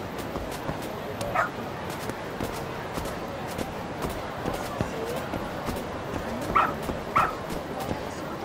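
Dog barks and yips in a VR video game, a few short sharp barks near the start and a pair later, over steady game ambience with a person talking.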